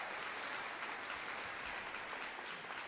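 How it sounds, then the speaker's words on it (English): Faint, steady audience applause at a high school senior awards ceremony, greeting the principal, a soft wash of clapping heard from a distance. "how about a round of applause for this year's principal?"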